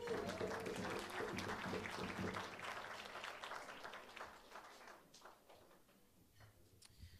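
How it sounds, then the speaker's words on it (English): An audience at a jazz club at Birdland Theater applauds, a dense burst of clapping with some cheering that fades gradually over about seven seconds. "how about another nice round of applause"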